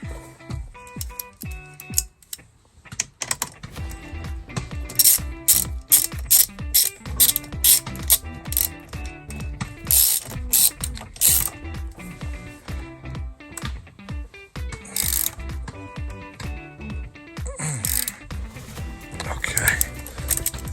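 A ratchet wrench tightens a bolt while a yoke is installed, its rapid clicking pawl heard in repeated bursts alongside metallic clanks and handling noises, with someone talking over it.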